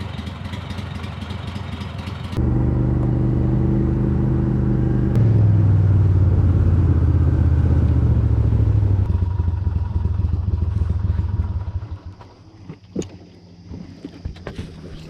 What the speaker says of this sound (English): Got a mean motor over there.